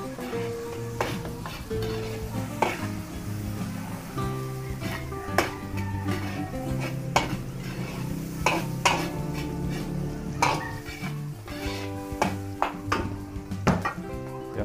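Garlic and onions are sautéed in a pan, a soft continuous sizzle under repeated clinks and scrapes of a utensil stirring against the metal, close and fairly quiet.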